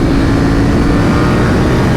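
A 2020 Triumph Street Triple RS or KTM 890 Duke R motorcycle engine runs loud and continuous in sport mode on the road, a steady throaty drone mixed with rushing wind noise.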